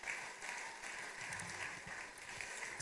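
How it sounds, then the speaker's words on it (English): Faint, distant applause from a congregation at an outdoor beatification Mass, a soft continuous patter of many hands lightly clapping at low volume throughout. "We can clap for them in their absence."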